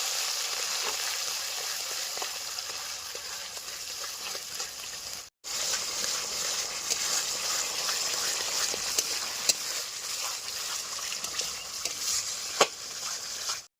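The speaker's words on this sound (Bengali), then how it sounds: "এবারে তেলের মধ্যে আদা রসুন লঙ্কা কাজু বাদাম ধনেপাতা পেস্টটা দিয়ে দেবো। এবার কিছুক্ষণ ভাজবো।" Ginger, garlic, chili, cashew and coriander paste frying in hot oil in a village kitchen, with a steady close sizzle and crackle and a brief break midway.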